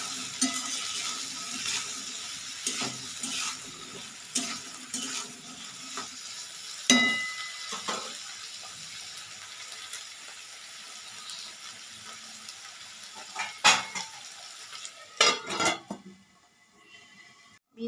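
Green beans fry with a steady sizzle in a pan while a spoon stirs them, with repeated scraping strokes and a few louder clanks near the end, and no talking.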